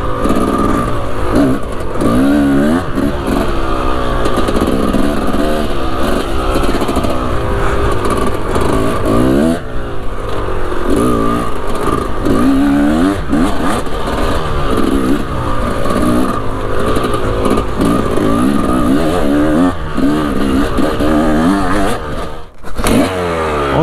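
A Kawasaki enduro motorcycle ridden continuously, its engine loud and close, rising and falling in pitch as the throttle changes, with rattling and clatter over rough ground.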